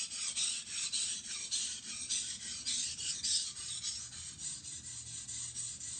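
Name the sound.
knife sharpened on KnifePlanet sharpening stone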